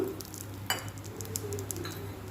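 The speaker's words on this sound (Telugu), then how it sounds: "కరివేపాకు వేగిన తర్వాత ధనియాలు కొంచెం వేస్తున్నాను" Curry leaves and coriander seeds crackle in hot oil for a tamarind-leaf chutney, a brief close sizzle punctuated by sharp spatula clinks against the pan.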